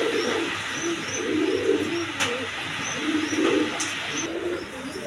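A pair of Indian Bombai pigeons for sale coo in soft, repeated rolling phrases close by, over a steady hissing background with a few faint chirps.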